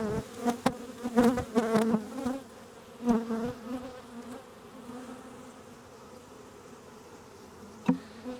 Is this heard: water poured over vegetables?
no